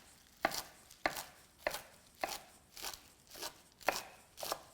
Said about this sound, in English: with the kale, I'm going to give it a nice chop as well